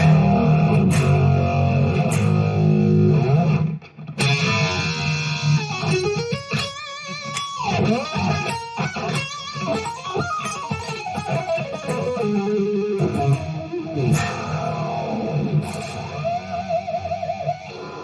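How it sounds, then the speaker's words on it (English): Loud, dirty, obnoxious fuzz guitar with thick distortion playing sustained chords and bending lead lines, with a brief break partway through before the saturated tone returns. "That's my ideal fuzz sound."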